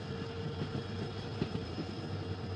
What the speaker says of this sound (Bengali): বুঝতে পারছো ট্রেন এখনো পর্যন্ত মানে পাহাড় চড়ার মতো করে চড়ছে।